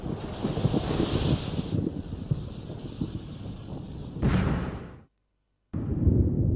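Strong wind roaring at the Tacoma Narrows bridge during its collapse, a loud continuous rumble with heavy microphone buffeting, broken by a sharp burst and a brief dropout before the roar resumes.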